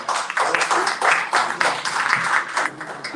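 Audience at a post-election panel discussion in Ibarra giving a round of applause, a short burst of many hands clapping with uneven swells, moderately loud and close.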